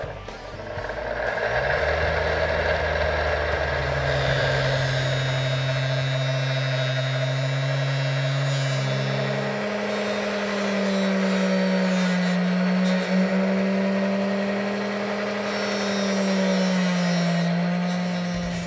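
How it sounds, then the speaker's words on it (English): A small grinder-polisher spins a Scotch-Brite wheel slowly against a pistol hammer, giving a steady motor hum with a shifting whine that rises and settles as it works the metal, close and continuous throughout. "So I have my mini grinder here, grinder polisher. It's got a little Scotch-Brite wheel on it, nice and slow."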